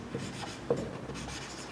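Soft scratching of a pen or chalk writing a chord equation during a maths lesson, a few faint strokes with one slightly sharper tap, quiet and close.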